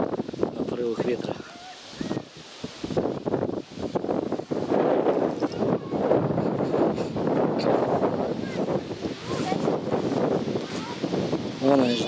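Gusty wind buffets the microphone in a steady rushing roar while a kite is flown, with voices and rustling mixed in beneath it.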